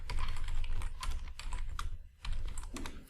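Typing on a computer keyboard at a command prompt, a quick run of close, crisp key clicks with a short pause before more keystrokes.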